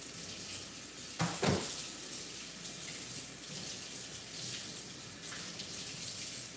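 A kitchen tap runs steadily into a sink during washing up, with a brief splashing burst early on and a constant water hiss, heard close with no talk.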